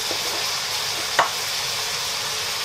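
Pancit canton noodles are stirred in a hot pan, giving a steady close sizzle and frying hiss with a single brief scrape of the utensil.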